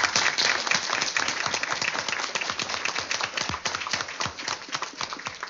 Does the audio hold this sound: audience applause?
yes